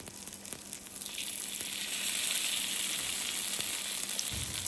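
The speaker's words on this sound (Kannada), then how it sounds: "ಮ್ಯಾರಿನೇಟ್ ಮಾಡಿರೋದು ಫಿಶ್ನ ತವ ಮೇಲೆ ಹಾಕೋಣ" Marinated fish frying in oil on a tawa gives a steady, close sizzle that swells after the first second and holds constant, with faint crackles and a light scrape of a utensil near the end.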